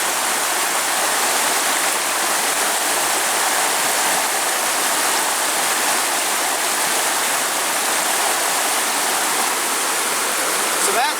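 Water is forced backwards through a LifeStraw filter, giving a continuous loud hissing rush of spray that stays steady throughout with no break.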